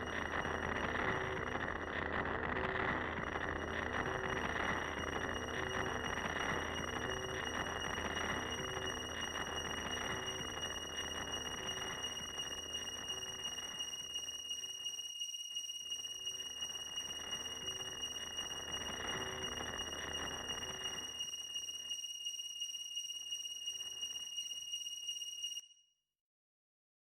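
Static noise effect from antenna alignment in the video game Breath of Fire III: continuous harsh hiss with steady high whistling tones and a pulsing buzz, easing off in places and cutting out abruptly at the end.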